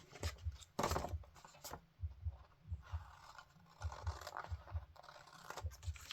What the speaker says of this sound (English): I don't need these extra flaps here, so I'm going to cut those